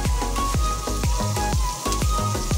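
Red onion frying in melted butter for tofu sisig, a steady close sizzle with a regular rhythm of scraping and stirring strokes, no voices.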